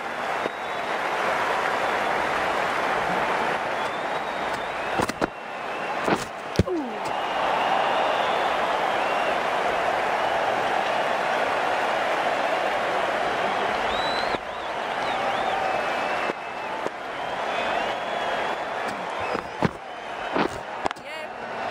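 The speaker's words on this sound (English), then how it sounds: "That's what the crowd have come to see." Crowd applause in the cricket game Cricket 19 rolls on as a broad, steady roar, punctuated by a few sharp bat-like knocks and occasional commentary voices.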